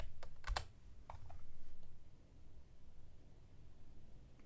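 A computer keyboard is typed on in a quiet room: a short cluster of crisp key clicks near the start, then a few scattered taps and faint background hiss.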